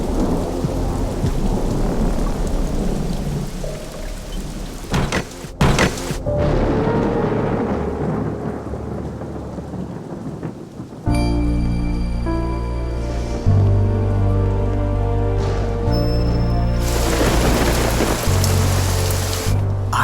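Heavy rain pours down loudly and steadily, with deep rolls of thunder rumbling through it and music rising beneath the downpour in the second half; no one speaks.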